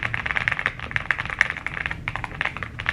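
Rapid typing on a keyboard with glass keycaps, bright clicky keystrokes in a quick uneven stream, close and alone.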